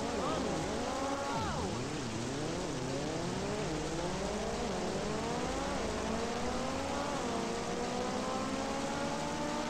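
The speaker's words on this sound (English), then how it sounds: "But it is in the rain, so I'm curious to see how that affects things." Racing cars whine through wet-weather laps in the Super Woden GP video game on PS4, a steady wash of rain hiss under swooping engine tones that rise and fall continuously; no talk.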